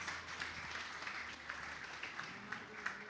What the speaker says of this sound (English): Ladies and gentlemen, please welcome them on stage with a round of applause.